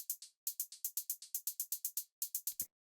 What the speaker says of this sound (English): The next thing that I have here is this hi-hat,